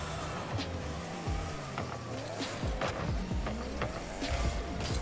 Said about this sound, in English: I think the new audio as well for this car sounds amazing.